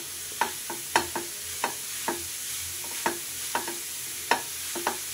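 Grated carrot cooking in milk in a pan for carrot halwa, stirred with a spoon that gives a dozen or so light scrapes and taps at an uneven pace over a soft steady sizzle, close by with no talking.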